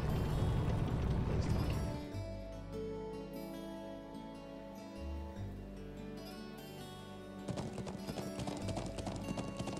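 Horse hooves clip-clop steadily over a rich musical score in the video game Trails of Cold Steel, the galloping fading into a sustained melodic passage before lively music swells again.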